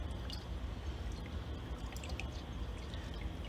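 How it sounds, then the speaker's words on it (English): Deionized water trickles and drips faintly as a pH electrode is rinsed off, a soft steady pouring patter with no talk over it. "rinse it off with our deionized water."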